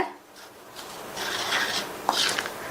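Powdered sugar being stirred by hand into warm roasted wheat flour for laddu, giving soft, scratchy rubbing strokes that swell and fade over a few seconds, close by with no talking.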